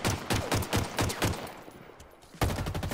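Rapid machine-gun bursts in Halo Forge, a regular string of about eight loud shots, then a short lull before firing resumes near the end.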